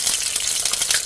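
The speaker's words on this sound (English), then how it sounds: "And once you do fry them, you sort of put oil in them." Chicken potstickers fry in hot oil, giving a steady, close, dense sizzle with faint crackling pops throughout and no voices.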